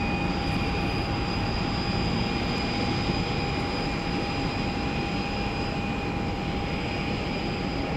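A Boeing 737 airliner at Tampa airport roars steadily with a loud, continuous jet engine rumble and a high whine, holding constant throughout.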